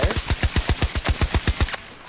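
A BSV-M rifle in Battlefield 2042 fires a fully automatic burst of about a dozen sharp, evenly spaced shots in quick rhythm, loud and close, ending abruptly in a short tail of silence.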